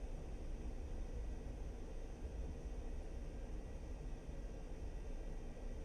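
A jet aircraft taxiing toward the runway in a flight simulator game, a steady broadband engine roar and rumble that holds even and unchanging throughout, moderately loud with no talking.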